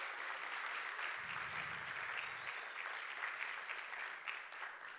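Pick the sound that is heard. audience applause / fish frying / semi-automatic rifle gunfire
audience applause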